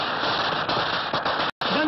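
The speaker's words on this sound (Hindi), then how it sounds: "बंद करो पटाखे, बंद करो बंद करो बंद करो।" Firecrackers bursting on Diwali night in a film scene, a dense, loud continuous crackle of rapid bangs with a brief cut of silence near the end and faint voices in the mix.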